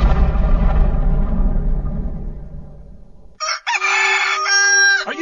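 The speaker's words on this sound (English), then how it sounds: "Are you tired of that pesky rooster waking you up in the morning?" A rooster crows loudly and alone in a video game commercial, a single drawn-out cock-a-doodle-doo that starts abruptly and breaks off after a moment, following a fading low rumble.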